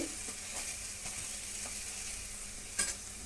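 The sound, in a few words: puri deep frying in oil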